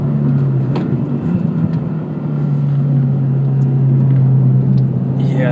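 A 2022 Subaru WRX engine droning steadily from inside the cabin during a short shift, a loud continuous low hum with a slight dip in the middle before settling back.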